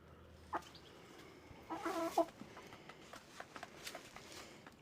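A chicken pecks at spilled feed pellets on the ground, giving a few soft clucks and brief pecking noises at close range. The sounds come in scattered short bursts against quiet background noise, and no one speaks.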